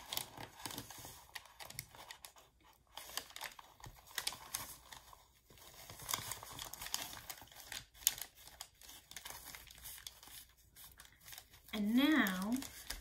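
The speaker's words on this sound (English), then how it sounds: "Fold it in half." Painted paper square being folded in half for a weaving craft: soft crinkling and rustling handling sounds, brief and close, mixed with a person talking.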